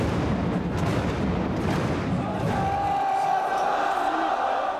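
Large crowd roaring and cheering inside the Bercy arena in Paris, a dense, loud swell of voices that thins slightly toward the end, where a higher sustained cry lingers.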